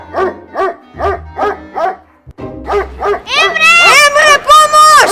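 A dog in a Macedonian comedy show barks loudly in a quick regular series of close, sharp barks, then shifts into higher yelping, whining cries toward the end.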